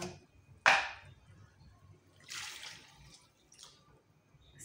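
Water is poured in a few short splashes into a cooking pot to top up the liquid. The first splash is the loudest, and softer pours follow in a quiet setting.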